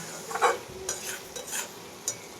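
Onions stirred in a pan with a little mustard oil for a poppy-seed onion dish, soft scraping strokes over a gentle sizzle, close and brief, no talking.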